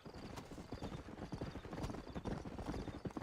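A horse is ridden in Red Dead Redemption, dense rapid hoofbeats filling the short stretch at a steady pace, loud and close with game background underneath.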